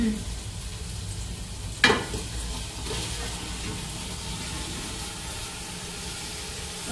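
Marinated mushrooms drop into a hot pan with a sharp burst of sizzling, then settle into a steady, close crackling fry with no talking.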